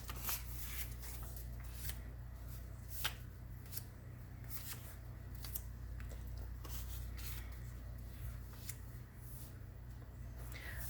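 Paper cards are handled and sorted into piles during a chemistry matter lab. Quiet, intermittent flicking and shuffling rustles sound close by over a steady low hum.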